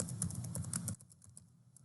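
Quick, light clicks of keys being typed on a computer keyboard, a busy burst that thins out to a few scattered taps, quiet and close.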